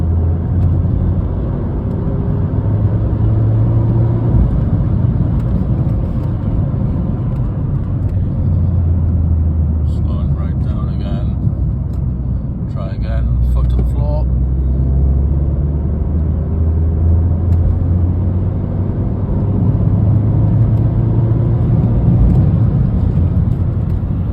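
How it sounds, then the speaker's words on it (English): A Peugeot 208 GTI with the 1.6 THP engine accelerates at full throttle in fourth gear while suffering a pulsing, surging fault. A continuous low engine and exhaust drone rises and falls in waves, with road rumble and no talking. "you can kind of hear there's a little bit of pulsing noise coming from the exhaust"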